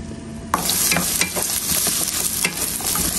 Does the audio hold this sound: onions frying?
yes